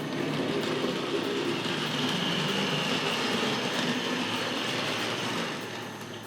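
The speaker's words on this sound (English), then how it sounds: "Let's roll the locomotive back." A Tri-ang Railways model locomotive rolls along its toy track in a steady, dense whirring rumble with a faint rhythmic clatter, loud and close, easing off slightly at the end, and no one talking.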